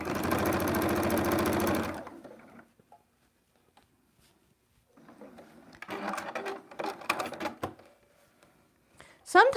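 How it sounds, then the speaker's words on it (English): A sewing machine stitching a quilt-as-you-go zipper pouch from Christmas fabric scraps runs in a fast, loud, even buzz for about two seconds and stops, followed by quieter clicks, a short whirring burst and sharp snips as the thread cutter works. "Sometimes my thread cutter doesn't like to cut my bobbin, and other times it does."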